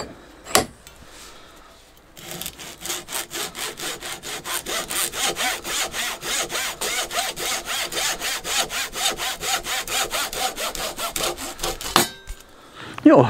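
Hand saw cutting a fire-starter tinder block in two, a long steady series of rapid rasping back-and-forth strokes, close and loud, after a single knock and a short pause.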